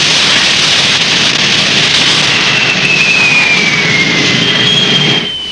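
A spaceship engine runs in a 1984 Korean giant-robot anime, Phoenix King, as a loud steady jet-like roar with a thin whine gliding across it before it cuts off abruptly.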